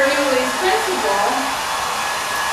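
A handheld hair dryer blows steadily throughout, a loud continuous airy whoosh with a wavering motor whine, close by and with no speech over it.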